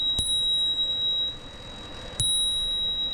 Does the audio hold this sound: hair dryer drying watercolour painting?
no